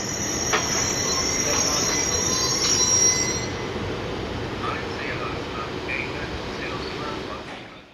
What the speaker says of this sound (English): Finally, we pop back to Rottweil as we witness the train's northbound departure.